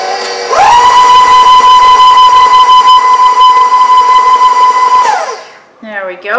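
An electric mixer runs steadily for about five seconds, mixing the last of the flour into a lemon ginger and pepper heritage cake batter, with a loud, even motor whine that winds down sharply at the end.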